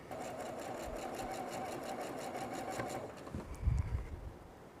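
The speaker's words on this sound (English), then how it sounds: "So now I'm going to go ahead and match this one up and sew this one down." A sewing machine stitches quilt pieces together for an on-point throw quilt, running at a steady, rapid needle rhythm for about three seconds before stopping, followed by a soft handling thump.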